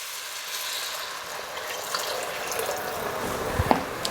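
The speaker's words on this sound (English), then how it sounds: "finally we are going to add 2 cups of water" Two cups of water pour steadily into a pot of beans for Hoppin' John, a close, continuous splashing stream with a few small clinks near the end.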